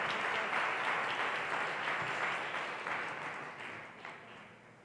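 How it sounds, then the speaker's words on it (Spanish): A conference audience applauds steadily, a dense patter of clapping that holds strong then gradually tapers off. "Un aplauso, por favor."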